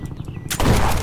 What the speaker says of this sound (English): Wait, I'm gonna shoot him from the bottom.